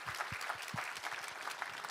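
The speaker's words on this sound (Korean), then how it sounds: "우리 하나님께 감사와 영광의 박수 올려드리겠습니다." A church congregation claps in thanks after a sermon reading, a steady, fairly quiet patter of many hands filling the space with no voices over it.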